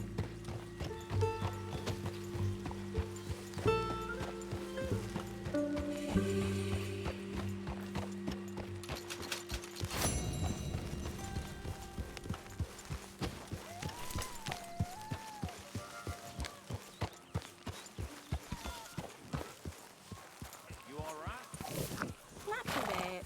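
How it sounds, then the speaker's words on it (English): In the Western video game Red Dead Redemption 2, a horse's hooves clop continuously, speeding into a fast rhythmic gallop, with neighs and whinnies mixed in and people talking over it throughout. "Arthur, get that horse out"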